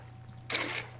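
Filling a bucket from a body of water in the Vintage Story video game: a short watery splash and gurgle lasting about a third of a second, preceded by two faint clicks over a low steady hum.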